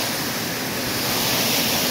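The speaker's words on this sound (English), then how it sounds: "I hope you can hear me over the sound of this current of water here." A strong current of stream water rushes close by on a hillside hike near Middle Black Clough, a constant, loud, hissing roar with no break or voice.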